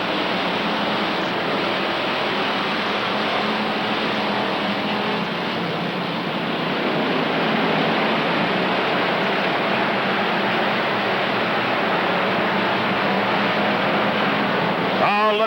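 NASCAR Roadrunner race cars roar as a field at Rockford Speedway on a green-flag start, a loud, continuous broadband engine drone that holds steady and swells slightly midway.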